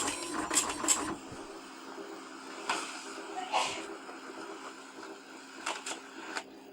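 A dot matrix printer attached to a BBC Micro prints in super quiet mode, giving a steady low mechanical whir with several brief rattling head passes and clicks throughout, moderately close.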